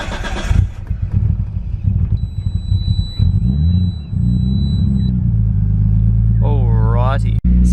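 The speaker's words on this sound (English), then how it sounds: "I'll quickly turn the car on so you guys can kind of see what I mean" A Nissan R33 Skyline is started up: cranking and a rough catch give way to a deep, steady idle rumble heard close, with a voice speaking over part of it and a brief whine near the end.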